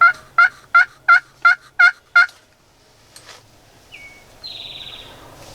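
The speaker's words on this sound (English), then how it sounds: "There's 2 of them, I think, and they are just double gobbling like crazy." Wild turkeys in Missouri gobble loudly and close: a rapid run of seven rattling gobbles in even rhythm, then a short pause and fainter calls and chirps from other birds.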